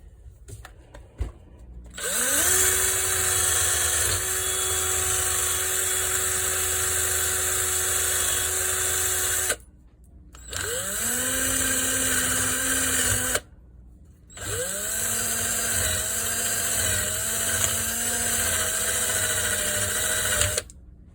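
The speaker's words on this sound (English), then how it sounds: "put them in a pair of pliers like this, and just brush the head off" A powered wire brush scrubs rusty bolt heads held in pliers, a loud, steady whine with a long run, a short pause, then two more bursts in which the pitch drops as the brush bites into the metal.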